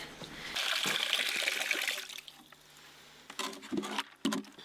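Water is poured onto beet pulp horse feed in a bucket, a steady splashing trickle for a couple of seconds followed by quieter dribbles and handling noises.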